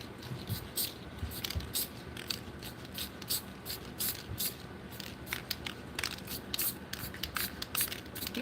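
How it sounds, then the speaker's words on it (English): Spray paint hissing from a can in rapid short repeated bursts, close and steady, with a faint rattle. "He's particular with his spray paint."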